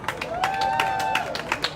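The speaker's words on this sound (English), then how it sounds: "Give him a round of applause." A crowd applauds at a 2020 get-out-the-vote event, with scattered close claps and a steady wash of clapping while a voice speaks over it.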